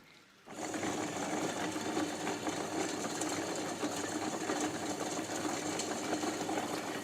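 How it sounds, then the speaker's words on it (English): Chocolate melanger grinding cacao nibs starts up after a brief quiet moment and then runs as a steady, close mechanical whir and rumble, with no voices. "you can see how it's slowly grinding down the nibs"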